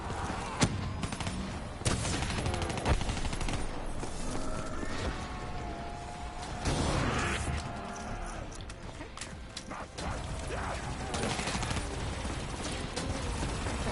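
Rapid gunfire and mechanical clatter fill a Call of Duty Black Ops 3 match, with dense bursts of shots, metallic ratcheting and game effects running continuously at a loud, busy level.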